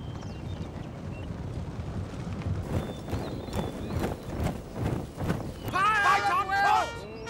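Mounted troops gallop in a Total War game battle between Zulus and British, with a rhythmic pounding of hooves under a voice, followed by a brief high horse whinny near the end.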